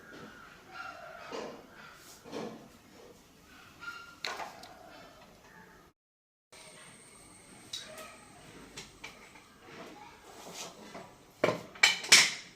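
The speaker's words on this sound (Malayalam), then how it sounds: "പിന്നെ അരിയാൻ വിട്ടുപോയി പച്ചമുളക്, അതുകൂടെ ചെറുതായിട്ട് അരിഞ്ഞെടുക്കാം." Green chillies are chopped finely with a knife on a board, a quiet series of separate taps spaced a second or so apart, with a brief gap and a few sharper, louder knocks near the end.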